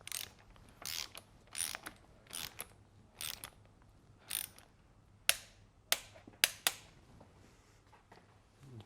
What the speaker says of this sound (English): let me set the torque wrench